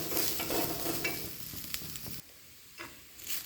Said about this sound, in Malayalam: ഇനി നമുക്ക് നന്നായിട്ട് വറുത്തെടുക്കാം